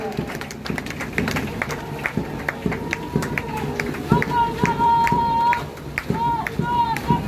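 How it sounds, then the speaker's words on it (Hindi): Crowd clapping at a Bihar Police passing-out parade at Hajipur police line, scattered claps and applause over parade music and an announcer's voice, steady and moderately loud throughout. "जो लोग जहां खड़े छोटे बड़े सभी के सभी ताली बजाएं"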